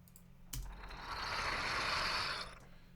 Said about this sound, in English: it's only coffee beans being moved by hand